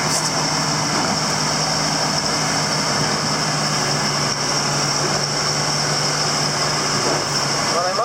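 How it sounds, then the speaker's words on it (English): A tractor engine idles while it warms up slowly outdoors in cold, snowy weather, holding a constant, steady rumble with a faint high whine over it. "This tractor does not warm up very fast"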